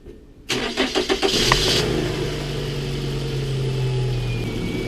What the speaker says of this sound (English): Now we got to start the car.